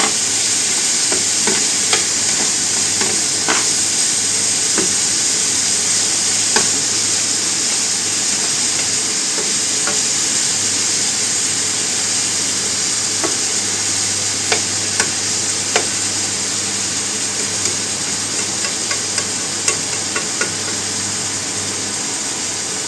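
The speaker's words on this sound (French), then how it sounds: "Pendant que mes pommes de terre cuisent et mes petits lardons grillent à feu doux" Potatoes and bacon lardons fry gently over low heat in a pan, a steady soft sizzle running throughout with scattered faint pops and occasional light scrapes, close up and without talk.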